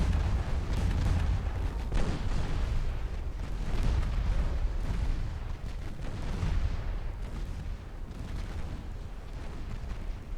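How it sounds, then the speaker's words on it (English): Torpedo strike explosions in a naval combat video game, a run of heavy, rumbling booms and bursts rolling on one after another over a loud, continuous battle din. "that was a perfect layup into a torpedo strike by the tailor"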